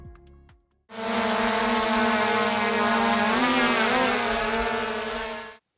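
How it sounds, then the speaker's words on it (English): A quadcopter drone's rotors whir in a loud, steady high-pitched buzz that wavers slightly in pitch as it hovers nearby, then stops. "Whether you call them drones, quadcopters, or UAVs, these flying machines"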